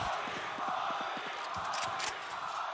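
Crowd noise from an esports arena during a VALORANT Champions match, a steady roar of cheering with a broad hiss held level throughout, with a few low rhythmic thumps beneath it.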